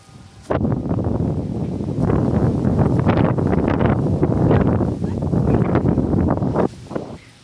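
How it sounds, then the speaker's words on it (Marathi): Strong gusting wind roars loudly across the microphone outdoors, starting abruptly and buffeting continuously for several seconds before dropping away, with a faint voice briefly near the end. "वाराला काय झाले काय माहिती बाबा हे बघा कसला जोरा सुट"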